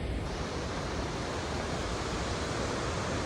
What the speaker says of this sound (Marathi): पाणी काय पडतंय